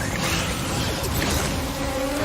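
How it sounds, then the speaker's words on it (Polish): Swarm of flame beetles in the Star Wars Jedi: Fallen Order video game, a loud dense insect buzzing that drones continuously and close throughout. "Flame beetles. They're coming through the wall."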